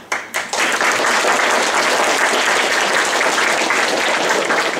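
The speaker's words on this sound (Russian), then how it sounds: "Какие аплодисменты" Loud, dense applause from a school audience at a solidarity-against-terrorism event, starting with a few separate claps and then swelling into steady, sustained clapping that fills the whole stretch.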